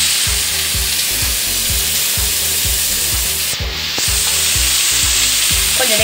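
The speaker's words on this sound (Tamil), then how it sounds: "அடுத்த சிம்மில் வச்சுட்டு அப்பப்போ நம்ம வதக்கி வச்சுட்டே இருக்கலாம்" Ivy gourd (kovakkai) frying in oil in a pan on low heat, a steady loud sizzle with a spoon scraping and stirring in a regular rhythm, no talk.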